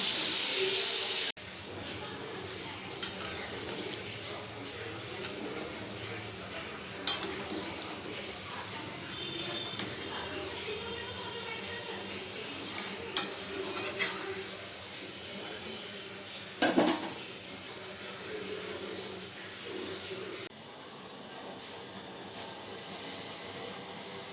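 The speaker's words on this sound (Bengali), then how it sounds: "আর যা যা মশলা দিতে হয় গুঁড়ো মশলা সব দিয়ে কষিয়ে মাছের ঝোলটা করে নেব" Fish curry with ground spices fries in a pan, heard as a soft, continuous hiss and sizzle with occasional utensil clinks and stirring scrapes, quiet and close throughout.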